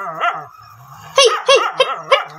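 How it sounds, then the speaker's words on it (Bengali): A dog barks several times in quick succession, loud and close, after a brief whine and some low background murmur. "সুমনদার কুকুরটা নিয়ে আসছে তো।"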